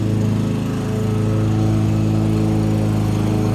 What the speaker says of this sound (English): And then we have, lawn mowing.